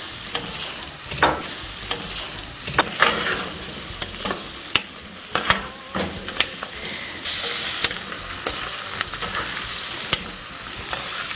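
Meat pieces browning in a pot with golden fried onions for a Beninese bean dish, a loud continuous sizzle broken by frequent scraping stirs and utensil knocks, with the frying getting louder toward the end.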